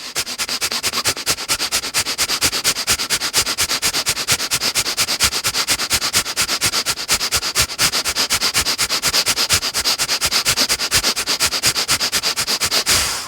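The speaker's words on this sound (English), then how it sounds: "add in Bhastrika, breath of fire," Bhastrika breath of fire in a yoga class, rapid forceful breathing in and out through the nose: a fast, even train of sharp sniffing puffs, close and loud, continuing steadily without pause or speech.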